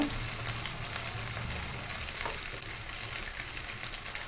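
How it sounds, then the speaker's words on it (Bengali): Soya chunks sizzling in a hot pan for a vegetarian soybean curry, a dense, even frying hiss that stays loud and continuous with no talking. "এবার সয়াবিনটা দিয়ে দেবো লবণ দিয়ে দেব"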